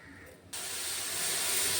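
A pot of flattened rice payasam at a boil gives off a sudden, steady steam hiss that swells slightly and holds, close and fairly loud.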